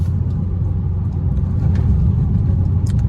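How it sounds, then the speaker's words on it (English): Dodge SRT 392 engine idling as it warms up: a low, continuous, rumbling drone, close and steady, with faint high-pitched clicks near the end and no talking. "Let the engine warm up."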